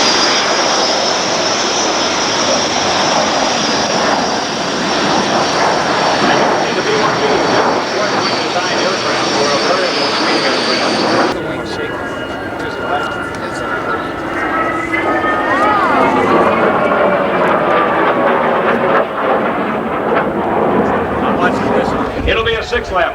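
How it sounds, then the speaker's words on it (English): Loud, continuous roar of several racing aircraft engines taking off at the 1990 Reno air races, a broad jet-like drone that shifts partway through as the planes climb away, with no talk. "the airplanes are on the takeoff now, most of them off the ground"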